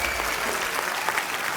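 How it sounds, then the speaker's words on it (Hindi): A TV show studio audience claps steadily throughout, a dense and even burst of applause without a break. "तालियां जोरदार होनी चाहिए।"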